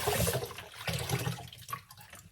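Water runs from a tap while slow juicer parts are rinsed, a close splashing, gushing stream with uneven bursts as pieces move under the flow.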